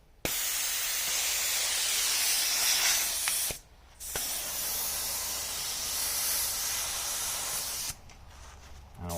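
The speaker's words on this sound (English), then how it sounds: "Next we can let the air out from the existing tire." Air hisses steadily out of a gravel bike tire valve as the tire is deflated, a loud, close, broadband rush that cuts out briefly twice before resuming.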